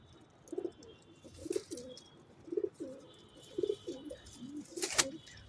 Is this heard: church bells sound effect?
no